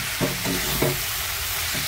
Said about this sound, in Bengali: মোচাটা ভাজা ভাজা হয়ে এসছে